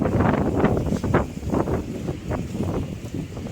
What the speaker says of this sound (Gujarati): પવન મારા અવાજ કરતા તમને પવન વધારે આવતો હોય છે